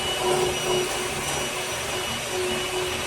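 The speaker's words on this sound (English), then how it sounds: "While this is whisking" An electric mixer whisks eggs into a vanilla cake batter with a continuous, steady, close whirring hum and no voices.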